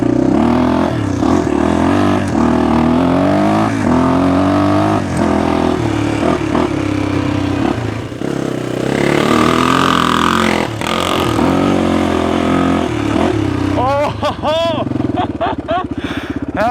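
A 1995 Honda XR250R motorcycle rides along with its engine droning and revving steadily throughout, loud and close, with a rider talking over it and pitch sweeps of acceleration near the end.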